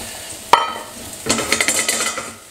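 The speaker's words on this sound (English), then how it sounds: "And in the same pan, you're gonna fry the mushrooms" Mushrooms frying in oil in the same pan just used for pancetta, for coq au vin: a sharp clatter of utensil on pan, then a busy sizzle with scraping and stirring knocks, close and without talk.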